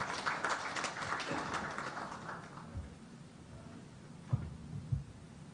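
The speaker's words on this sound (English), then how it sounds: "A round of applause for them." Audience applause at the launch of a refugee response plan for refugees and host communities in Uganda, a broad fading patter of many hands at moderate distance, thinning out with a few stray thumps near the end.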